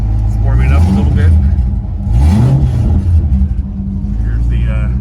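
A Corvette engine warms up with a loud, steady low rumble and a brief rise in revs partway through, heard from inside the car while a person talks over it.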